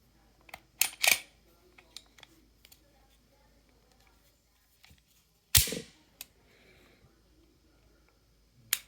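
Dry-fire trigger clicks from a double-action HK P2000SK pistol during a tabletop comparison: a few sharp, close metallic snaps spaced seconds apart, one louder clack in the middle, with faint handling sounds between.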